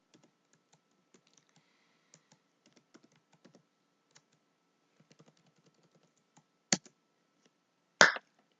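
Code being typed on a computer keyboard, a sparse run of soft key clicks followed by two much louder, sharp key strikes near the end, close and without speech.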